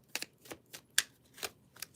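Tarot cards are shuffled by hand in a quick series of about seven close, crisp riffles and slaps with short gaps between.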